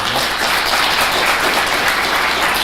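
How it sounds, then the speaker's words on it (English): Audience applause at a symposium, a full, sustained round of many hands clapping, steady and fairly loud throughout. "let's actually give them a round of applause for all of their"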